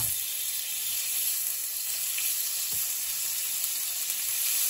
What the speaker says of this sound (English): So I'm going to add some butter to my pot.